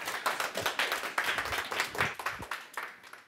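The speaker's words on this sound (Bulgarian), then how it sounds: "аплодисменти за Димитър Ангелов" An audience applauds a guest at a talk on drones, a dense, steady clapping that fills the room for about three seconds and fades slightly near the end.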